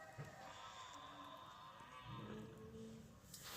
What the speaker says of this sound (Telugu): మీకు బ్యాక్గ్రౌండ్లో ఆవులు అరవడం వినిపిస్తుందా?